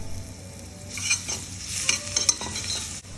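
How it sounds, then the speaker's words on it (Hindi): Garlic paste frying in oil in a cooking pot, a soft steady sizzle with light stirring scrapes and clinks, close and faint. "एक देगची में थोड़ा सा ऑयल डाल के इस लहसुन को फ्राई कर लें"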